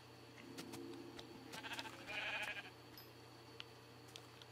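A sheep in the Minecraft video game gives a short bleat, faint at first and then louder near the middle, over a quiet steady background hum.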